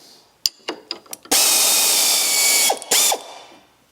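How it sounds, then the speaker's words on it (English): Ratchet wrench loosening the bolts that hold the rear leaf spring to the axle of an MGB GT: several quick clicking bursts, then a sustained loud whirring run of ratcheting, a brief pause and one more short run, close up. "I'm going to remove actually the bolts here that are holding the spring to the rear axle"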